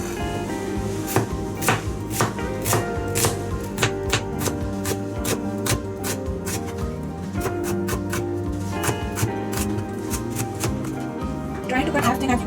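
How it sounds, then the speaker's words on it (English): A knife slices an onion thinly on a board, giving a series of crisp, fairly regular taps up close, while a voice talks over the cutting throughout. "So I am cutting the onion."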